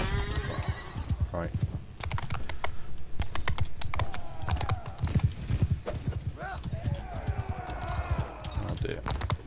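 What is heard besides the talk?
horses neighing and hooves clip-clopping in Mount and Blade 2 Bannerlord video game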